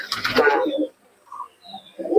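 Madras and Malbai pigeons coo close by in a brief rolling burst, then go quiet before a few softer coos and another soft burst.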